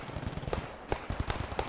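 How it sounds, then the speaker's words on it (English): Machine-gun fire in the WWII shooter Post Scriptum, a few short, sharp bursts of rapid shots that sound fairly distant and muffled against a rough ambient background. "You hear that? That machine gun?"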